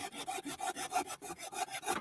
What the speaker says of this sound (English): sawing away on his wattle weave